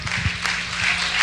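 Church congregation applauding during a sermon, a brief dense patter of clapping at moderate volume, steady across the short moment.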